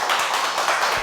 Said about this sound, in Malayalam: രാഹുലിന് ഒരു കൈയടി കൊടുത്തേ